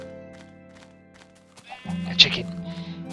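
A sheep bleats once in Minecraft, a short wavering cry rising over a quiet background hum late in the moment.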